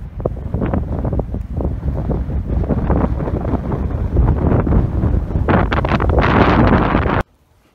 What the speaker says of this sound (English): It's still freaking windy up here.